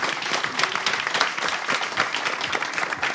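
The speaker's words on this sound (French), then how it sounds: "J'aimerais qu'on les applaudisse bien fort" Warm applause from an audience at a live entertainment event's grand final debrief, a continuous even wash of many hands clapping at moderate distance.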